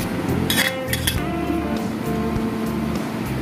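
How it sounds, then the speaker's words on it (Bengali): A knife cuts through a piece of breaded chicken on a plate, giving a few close clinks and scrapes of metal on crockery against a steady kitchen background. "আপনাদেরকে একটা আমি কেটে দেখাচ্ছি"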